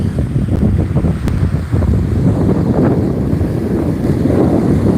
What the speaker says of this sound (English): the wind's picking up on y'all out here, it's a windy day outside the lake